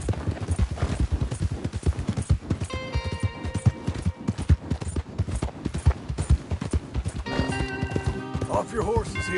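Horse hooves clip-clop steadily in a video game as riders travel with cattle, the rhythmic beats loud and close under frequent talking and occasional music tones.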